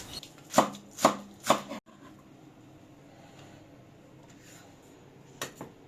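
A knife chops coriander and onion leaves on a cutting board in a home kitchen, three crisp, evenly spaced chops up close followed by a quiet pause and a couple of lighter taps near the end.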